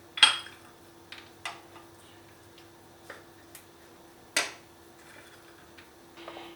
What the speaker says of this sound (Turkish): cevizlerimi de rondodan geçirmek yerine şöyle bir bıçakla minik minik doğruyorum